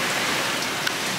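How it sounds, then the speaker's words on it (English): Heavy hurricane rain pours steadily onto a backyard, a dense, continuous hiss close by with no pauses and no talking. "The rain is picking up a little bit more as I just got here."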